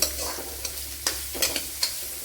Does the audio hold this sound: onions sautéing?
yes